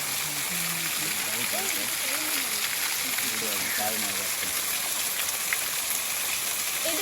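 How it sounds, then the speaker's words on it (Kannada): Water streams and splashes down from rocks in the Chikmagalur hills, a steady broadband rush of falling water heard close up throughout, with people talking over it. "ನೋಡಿ ಹೆಂಗೆ ದರ್ದರ ಅಂತ ನೀರು ಬೀಳ್ತಾ ಇದೆ ಅಲ್ಲಿಂದ."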